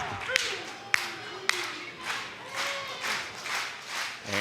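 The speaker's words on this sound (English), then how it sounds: "And the crowd here, Philadelphia, coming alive" A wrestling crowd in Philadelphia cheers, with a few sharp slaps or claps early and then rising and falling waves of crowd noise. Commentary voices can be heard faintly underneath.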